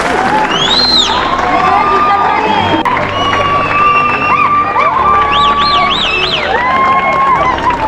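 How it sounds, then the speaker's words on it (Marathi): Large outdoor crowd at a Gujarat Giants celebration rally cheering and clapping loudly and continuously, with shrill whistles and shouts rising over the dense roar. "एकदा जोरदार टाळ्या"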